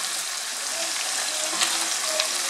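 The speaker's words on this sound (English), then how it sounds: "So this has been frying for like 3 minutes" Ingredients for okro stew fry steadily in a pan, giving a constant, close, hissing sizzle with faint crackles throughout and no talking.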